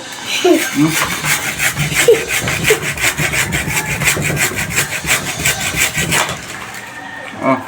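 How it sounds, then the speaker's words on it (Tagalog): A handsaw cuts through wood in quick, rough back-and-forth strokes, close and rasping, with a few spoken interjections and shouts mixed in. "Guys, galagarihin mo na."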